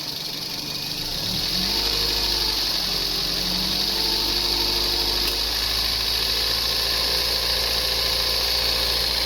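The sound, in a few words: Toyota Vios car engine idling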